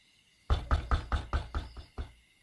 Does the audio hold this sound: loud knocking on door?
yes